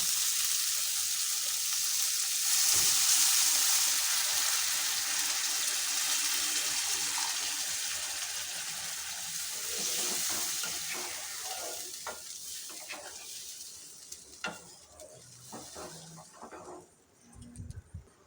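Soya chunk curry sizzles loudly in a pan as water is poured over the fried spice base with turmeric and a little sugar; the hiss is strongest early, then settles into softer bubbling with a few faint clinks near the end.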